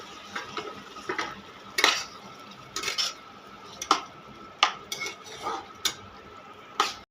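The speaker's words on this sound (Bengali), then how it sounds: "দিয়ে এটা এর মধ্যে দিয়ে ভালো করে নাড়াচাড়া করে এটাকে আবার কষাবো।" A paste of cashew, poppy seed and white sesame is stirred and sautéed with mushrooms, a gentle sizzle beneath repeated clattering scrapes and knocks of a spoon against the pan at an uneven rhythm.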